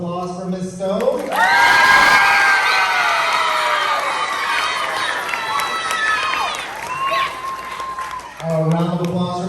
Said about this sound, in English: A round of applause for Miss Stone.